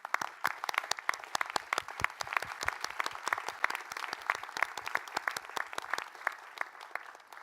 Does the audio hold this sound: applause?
yes